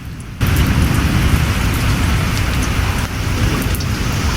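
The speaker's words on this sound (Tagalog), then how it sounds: "kapag ganyan na umuulan mga kanelman at malakas ang hangin at ulan" Heavy rain pours hard during a storm with strong wind, a dense, loud, steady roar that swells after a brief quieter opening and continues without letup, no voices present.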